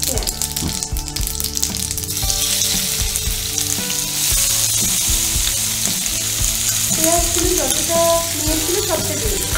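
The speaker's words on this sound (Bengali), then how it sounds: "সর্ষেটা ক্র্যাকেল হলে আমি এখানে দিয়ে দেবো পেঁয়াজ" Onions and crackling mustard seeds fry in hot oil for a Madurai street-style chicken fry, a steady close sizzle with scattered pops and stirring scrapes, and brief faint tones near the end.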